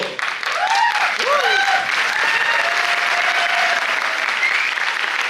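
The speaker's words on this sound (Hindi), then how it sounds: "जो पी के आए हैं वो लोग ताली बजा रहे हैं।" Sustained, loud applause from a group of people after drinking Thunderblast, an Ayurvedic energy drink. The clapping runs steadily throughout, with a few voices and whistle-like calls rising above it.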